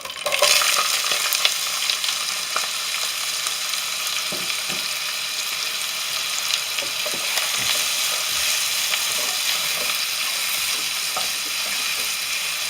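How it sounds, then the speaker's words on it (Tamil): Green chillies and onion sizzle in a pan of spicy chicken gravy, a steady loud hiss of frying running throughout with scattered stirring clicks and scrapes, no one talking. "பச்சை மிளகாவை போட்டுடலாம்."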